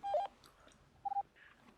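Telephone dialing tones sound for a phone call, two short clean beeps with quiet pauses around them.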